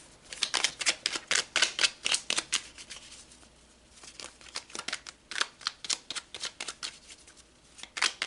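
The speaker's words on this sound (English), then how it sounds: "So let's pull some more cards." Tarot cards are shuffled by hand in quick, steady riffles and flicks, close and crisp, pausing briefly halfway before resuming.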